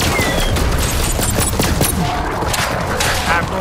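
Dense, loud gunfire from the video game Borderlands 3, a continuous fusillade of rapid shots layered over one another with no break.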